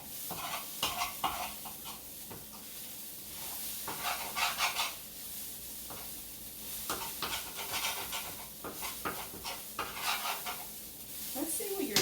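Cauliflower sloppy joe filling browns with a quiet sizzle in a non-stick pan while a utensil scrapes and stirs in irregular bursts, close and soft.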